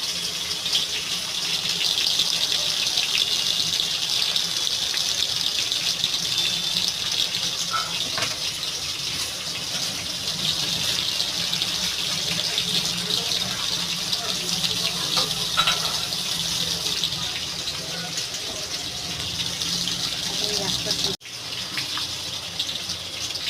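Tap water runs steadily into a kitchen sink while a fish is washed for a Bengali fish curry, a continuous close gush with faint rattles, briefly cut off near the end.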